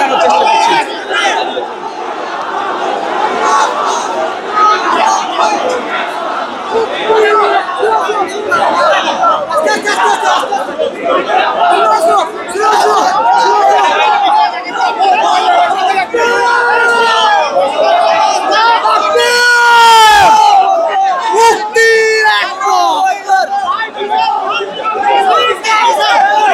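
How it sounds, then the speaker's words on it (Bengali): A protest crowd at Baitul Mukarram in Dhaka chants slogans, a loud, dense mass of voices rising and falling in rhythmic waves, with a reporter speaking over it. "তাদের হাতে যে ব্যানার এবং তারা বিভিন্ন স্লোগান দিচ্ছেন"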